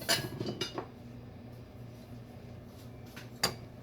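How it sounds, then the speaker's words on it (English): A spoon set down on a small plate in a kitchen, a few light close clinks and taps of metal on ceramic, followed by one more clink after a quiet pause, with no voices. "Get a little plate for my spoon"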